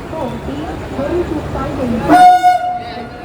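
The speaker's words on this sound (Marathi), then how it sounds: "ट्रेन आता आली आहे" A train horn blares loudly for about a second as the Mumbai–Mangalore Superfast Express arrives at a station, amid the rumble of the platform, with voices chattering in the background.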